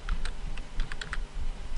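Quick, light keystrokes on a computer keyboard as a form is typed in, a brief burst of close clicks over a steady background hum.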